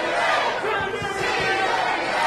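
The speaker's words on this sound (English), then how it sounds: "Crowds get behind him. Chant CWA." Wrestling crowd at a CWA versus TNA match, a dense roar of cheering with rhythmic low pulses of a chant swelling steadily throughout, loud and continuous.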